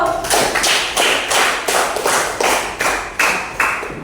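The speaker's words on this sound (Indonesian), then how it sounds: "Terima kasih, tepuk tangan dulu." A classroom of students claps in unison at a teacher's request, about eleven sharp, evenly spaced group claps ringing loudly and close, with no talking over them.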